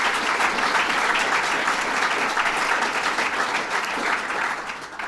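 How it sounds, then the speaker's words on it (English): An audience applauds a guest speaker at a hotel development announcement event in Syracuse, with dense, steady clapping that holds for several seconds and thins slightly at the end. "Tom Young, let's give him a round of applause."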